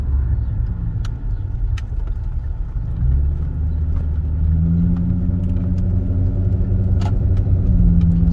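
A Ford 5.0 V8 car with an X-pipe exhaust and K&N intake cruises through a neighborhood, its loud, steady low rumble rising slightly as it accelerates. Faint ticks and clicks sit over the drone.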